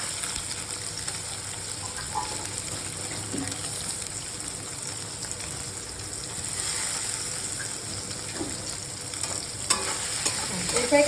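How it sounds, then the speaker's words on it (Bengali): Soybean chunks fry in a pan with a little salt, a continuous close sizzle broken by repeated scraping stirs and light clatter throughout. "এই যে সোয়াবিনটা একটুখানি ভেজে নেবো হালকা লবণ দিয়ে।"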